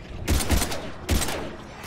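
Two loud bursts of gunfire from the video game Mass Effect 3, each a sharp boom with a short tail, about a second apart, standing alone with no talk.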